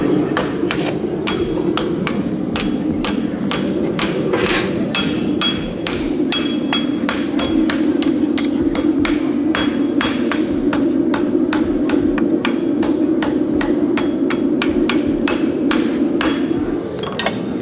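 Blacksmith hammer striking a horseshoe on an anvil during forging, a fast, steady series of loud, ringing metallic blows that repeats evenly for the whole stretch over a low background hum.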